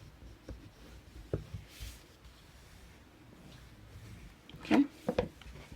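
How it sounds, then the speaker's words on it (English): Dry rubbing and scraping of a burnishing tool pressed over paper on a handmade mini album, soft and close with a few short louder scuffs near the end, no voices. "press it down and burnish"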